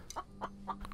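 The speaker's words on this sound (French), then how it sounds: "Oh, la poule." Chicken clucking in the survival game The Infected, three or four short close clucks spaced evenly over a steady low hum, with no talking.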